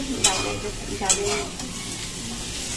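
Aloo posto cooking in a pan with a black cumin (kalonji) tempering: a steady sizzle with two sharp spatula scrapes near the start, and a brief voice speaking over it.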